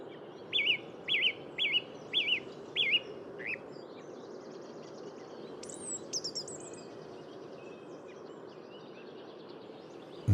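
Small birds sing near alder trees in winter in the Baixo Vouga lagoon wetlands: five quick, bright chirps in a row, then scattered fainter calls over a steady low outdoor background.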